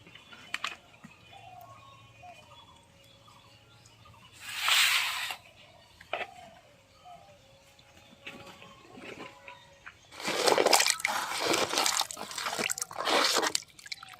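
Fish is washed by hand in water, with two bursts of splashing and sloshing between quieter drips and small wet squelches, heard close up.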